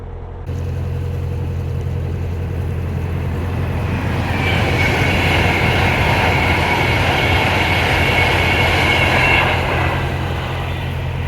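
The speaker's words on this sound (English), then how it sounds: "Here's one of those trains" A train rumbles past close by, a steady broadband roar that swells in the middle and slowly eases, with no voices over it.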